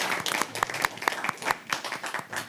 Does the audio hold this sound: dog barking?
no